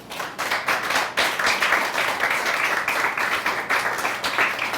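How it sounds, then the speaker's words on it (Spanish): A church congregation applauds steadily, dense clapping filling the space for several seconds at a consistent, fairly loud level. "Dale un aplauso al Señor."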